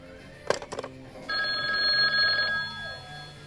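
A telephone bell rings in a single sustained burst of about a second, loud and close, after a few brief clattering knocks, with no voices.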